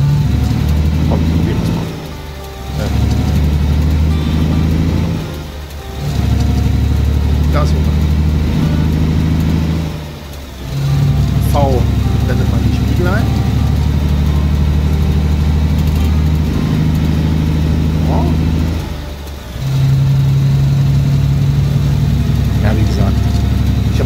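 Heavy truck engine in the Alaskan Road Truckers video game, a loud low rumble that rises and drops in repeated surges as it accelerates and shifts, with brief dips between pulls and faint voices mixed in.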